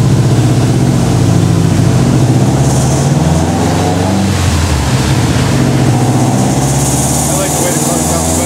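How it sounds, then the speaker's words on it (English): Turbocharged Subaru fitted with a traditional-style header: a loud, close engine rumble that drones steadily and thickly the whole time, with no clear break or pause. "I like the way the car sounds better with a traditional style header, don't you? Yeah, it sounds like a real Subaru."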